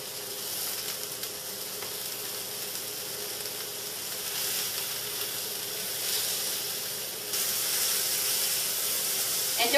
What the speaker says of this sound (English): All I'm going to do is just put them in that heated oil. They'll start to sizzle.